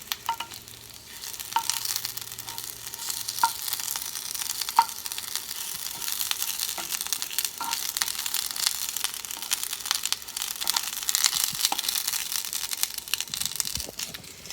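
Eggplant and portobello pieces sizzle and caramelize in a pan, a steady close frying hiss with occasional light stirring clicks, no voices.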